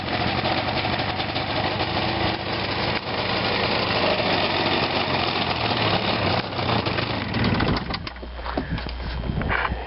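A snowmobile engine, primed by hand with no choke, catches and runs loud and steady for about eight seconds with a rough idling drone, then drops to a lower, uneven rumble near the end.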